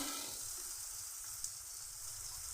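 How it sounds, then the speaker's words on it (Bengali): Eggplant fries in hot oil with turmeric and salt. A steady, dense sizzle carries on throughout with no voices. "হলুদ দিয়ে বেগুন ভেজে নিচ্ছি"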